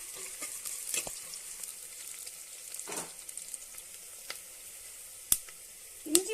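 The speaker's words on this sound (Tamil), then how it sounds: "கருவேப்பில் ரெண்டு கொத்து சேர்க்குறேன் அதையும் அப்படியே வதக்கி விட்டுறலாம்" Curry leaves sauté in hot oil for a fish head kulambu, a soft continuous sizzle with scattered crackles and a few sharp clicks of a utensil against the pan near the end, close and fairly quiet.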